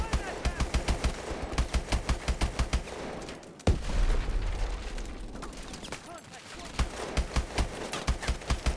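Rapid bursts of automatic gunfire in a Call of Duty: Advanced Warfare single-player firefight, loud and rhythmic, with a heavy explosion-like thud midway and the shooting resuming afterward, with a voice heard faintly at points.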